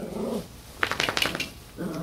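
Puppies growling and yipping indoors, a short cluster of small, sharp yelps and squeaky growls in quick succession, fairly close, with muffled voices in the background before and after.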